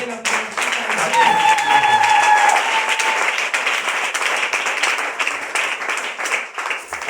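A church congregation at a Sunday thanksgiving service applauds and cheers for Jesus with sustained, lively clapping and whoops, the applause dense and near with a voice sounding over it.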